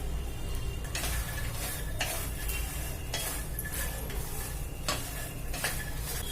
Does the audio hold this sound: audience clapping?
no